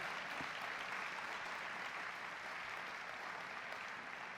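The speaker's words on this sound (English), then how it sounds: "Let's give them a round of applause before we even start." Steady applause from an audience at a WWII Merchant Marine Congressional Gold Medal commemoration, an even, continuous wash of clapping, fairly distant and alone without talk.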